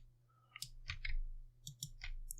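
Several sharp mouse clicks while Alt-clicking in an image editor's clone stamp tool: small clusters of crisp taps spread over a couple of seconds, quiet and close, with a faint hum underneath.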